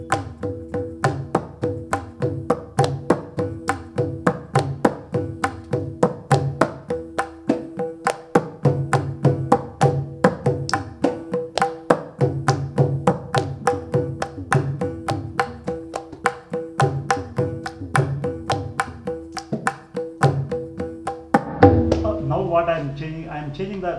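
A percussionist at an inaugural concert plays a straight pattern of three strokes per beat, crisp and close at a steady tempo. The pattern changes to denser strokes near the end.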